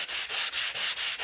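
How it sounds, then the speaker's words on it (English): A buffing block, like a nail buffer, rubs along the edges of a paper card in quick repeated strokes, a close, dry, scratchy sanding sound about five passes long with no talk. "this is just similar to what nail ladies use, a buffing block."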